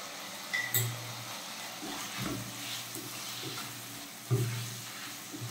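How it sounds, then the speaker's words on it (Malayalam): Anchovies with salt frying in a pan, a soft continuous sizzle broken by several clattering scrapes of stirring, close and moderately quiet, with no talking. "ഉപ്പ് ചേർത്ത് കൊടുത്തിട്ട് നന്നായിട്ടൊന്ന് മിക്സ് ചെയ്ത് കൊടുക്കണം"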